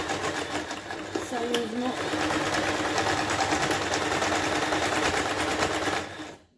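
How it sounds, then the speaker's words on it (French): Sewing machine stitching fabric makeup remover wipes, a steady fast mechanical whir running near-continuously for about six seconds before stopping abruptly, with a brief spoken word near the start. "Donc je couds la dernière partie"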